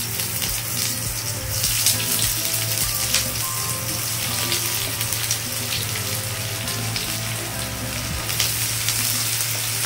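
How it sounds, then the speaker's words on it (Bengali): Chopped onions frying in hot oil with black cumin in a pan, a steady dense sizzle with watery crackle running the whole time, close and fairly loud, no voices. "পেঁয়াজগুলো আমি ভালো করে ভেজে নেব।"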